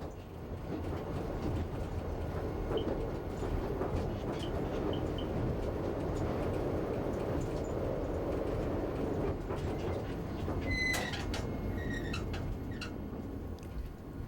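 A Talgo electric passenger train rolls steadily along the rails past El Fluvià between Portbou and Figueres, with a continuous rumbling roar, loud and sustained, with faint high squeals toward the end.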